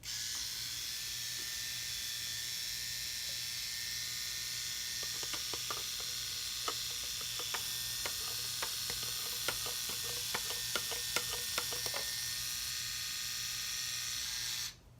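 A milkshake blender motor whirs steadily in a milkshake shop role play, a close, constant hissing drone with a run of sharp clicks and rattles in the middle before the motor cuts off at the very end.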